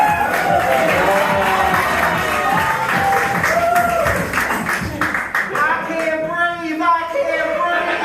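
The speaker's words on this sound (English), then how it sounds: "Everybody, give a round of applause for my Aunt Karen, the anti-masker." A comedy club audience claps and cheers for a ventriloquist act, loud applause with whoops that thins out, then a voice starts talking over the fading clapping near the end.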